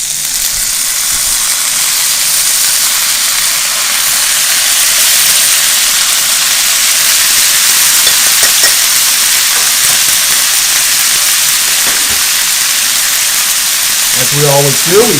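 Frozen vegetables hit a hot pan on a burner and sizzle in a loud, steady, broad hiss that holds for about fifteen seconds, while a voice talks over the frying.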